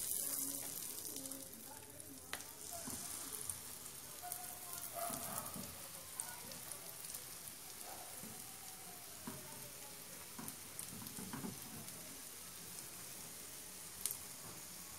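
American pancake batter frying in a pan greased with margarine over low heat, a steady soft sizzle with small pops and crackles, close and continuous throughout.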